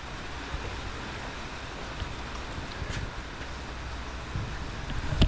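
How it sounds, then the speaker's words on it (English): Rain falls on an overcast day as a steady, even hiss that fills the whole clip at moderate volume, with no voices. "it's raining"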